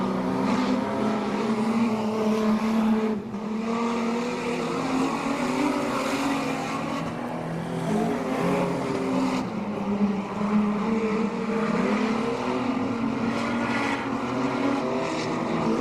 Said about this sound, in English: Steve Watts seems to have found second gear